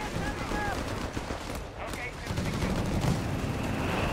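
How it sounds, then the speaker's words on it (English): Gunfire rattles through a Company of Heroes 3 battle as M3 grease guns and a machine gun fire in dense, overlapping bursts. A commentator talks steadily over the continuous shooting. "firing back with the M3 grease guns against the advancing Starstorm"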